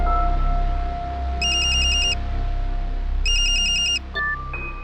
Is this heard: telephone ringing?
yes